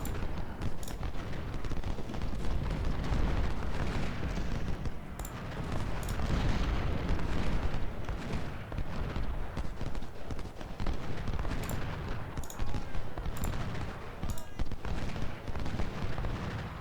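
Continuous rumbling battle din of artillery and massed gunfire in the Civil War strategy game Ultimate General Civil War, at the Thoroughfare Gap battle: dense, loud and unbroken, with sharper cracks standing out now and then.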